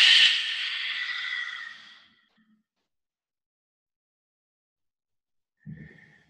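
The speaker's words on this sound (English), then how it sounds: "And last big deep breath in. And then exhale." A person in a hatha yoga session breathes deeply, with a long airy exhale close to the mic that fades after about two seconds, then silence, then the faint start of another breath.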